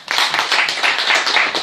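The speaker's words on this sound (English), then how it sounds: "Once again, a round of applause for the president." An audience applauds the president of the Nigerian National Association in the Netherlands, producing dense, steady clapping from many hands at close range. It sustains evenly with no voices.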